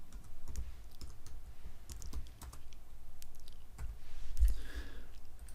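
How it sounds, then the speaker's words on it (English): Keys clatter on a computer keyboard as a Photoshop layer name is typed, a quick close run of irregular clicks and taps at an even level with no talk. "I'll type montage 1"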